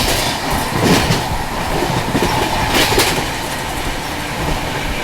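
Duronto Express train running on the rails, a loud, continuous rumble of carriages with rhythmic clickety-clack of wheels over rail joints and occasional squeals, heard from onboard.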